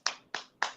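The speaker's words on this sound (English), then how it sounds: "I just clapped when I heard Myles Garrett." A person claps three times in a steady rhythm, each clap sharp, close and loud with a brief tail, during a casual podcast conversation.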